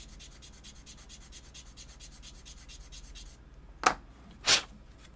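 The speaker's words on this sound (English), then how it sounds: "Let's clean this up here with our sanding block." Rapid, even back-and-forth rubbing of a sanding block on a surface for a few seconds, followed by two louder, sharper scraping strokes.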